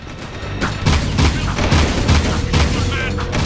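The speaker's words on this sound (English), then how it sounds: "now they're gonna be shooting at us from above" Enemies shooting from above in Jak II, rapid rolling bursts of game gunfire and booms close and loud, with a voice talking over the shooting.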